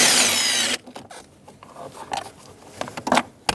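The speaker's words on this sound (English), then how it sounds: "So I'm going to stick a long extension down there and remove the nut." A power tool whirs loudly for under a second while loosening a 10mm nut on a 2010-2017 Chevrolet Equinox, then gives way to scattered clinks and metallic rattles of a socket on a long extension.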